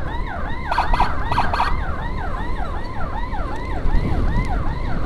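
Loud, close wailing ambulance siren cycling rapidly up and down in a continuous yelp, with brief horn-like blasts early on and traffic rumble beneath.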